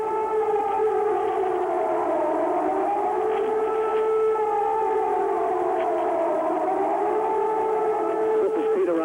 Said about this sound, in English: We have heard this siren 5 times in the last 4 hours.